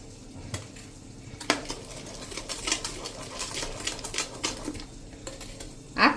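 Mango pulp with sugar is stirred in a pot, scattered scraping and clinking of a spoon against metal at an irregular rhythm, close and moderately loud, with one sharper clank near the end.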